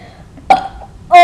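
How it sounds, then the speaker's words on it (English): Two loud burps in a burping contest, a short one near the middle and a stronger, tonal one cut off at the end, set against a quiet room. "Burp."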